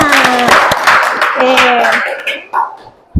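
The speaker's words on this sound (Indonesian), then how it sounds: "tepuk tangan untuk kita semua" A classroom of students clapping together at a teacher's prompt, a dense burst of hand claps mixed with voices that thins out and stops after a couple of seconds.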